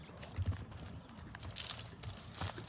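A stallion's hooves clip-clop in a few uneven, close knocks on firm ground, with quiet background noise between the strikes.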